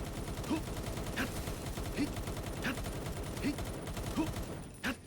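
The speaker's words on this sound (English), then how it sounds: "After shooting an entire magazine on the boss, I realized that I did basically no damage." Rapid game gunfire as a gun empties a full magazine into a tower boss in Palworld, loud, steady shots with recurring heavier impact bursts about every 0.7 seconds, dense and continuous with no speech.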